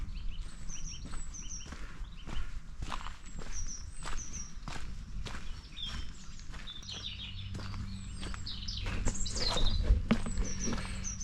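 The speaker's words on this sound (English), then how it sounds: "You can hear the birds singing" Birdsong fills a sheltered wooded spot on a calm spring day, with repeated chirps and tweets scattered across the clip over soft footsteps and low rumbling background.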